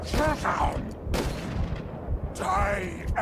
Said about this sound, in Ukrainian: Дивіться, вони стріляють по мені і жодного разу ще не влучили.